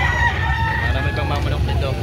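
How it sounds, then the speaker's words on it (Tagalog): Gamefowl roosters crowing at a farm in San Francisco, Cebu, several calls overlapping across a steady rural background, with someone talking over them. "Marami pang mga manok dito."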